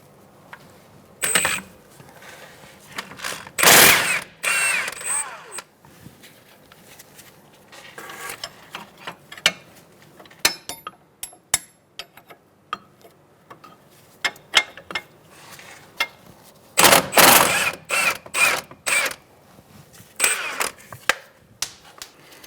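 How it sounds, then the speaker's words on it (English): Socket and wrench work on 22mm strut nuts of a 2002-2006 Toyota Camry front strut, with intermittent metallic clicks, ratcheting bursts and clanks separated by quiet pauses, close up. "I'm going to use a 22mm socket for these two nuts and a 22mm wrench on the other side to hold the head of the bolt."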